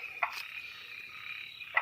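Chinese tree frogs croak faintly at night on a wooded trail in Yangmingshan National Park, Taiwan: a thin, steady high trill with two brief sharper calls near the start and end.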